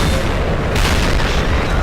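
A JPII tank gun fires in a tank video game, a loud, heavy boom that fills the whole short moment, with the blast's rumble sustaining to the end.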